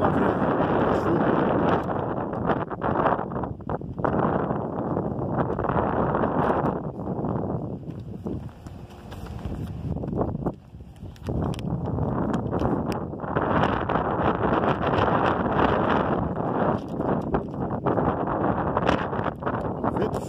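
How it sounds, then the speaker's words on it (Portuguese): Strong wind roars steadily into the microphone for most of the stretch, buffeting loudly with brief dips, heard outdoors in Urubici, Santa Catarina, Brazil, with no voices. "Vento forte, né"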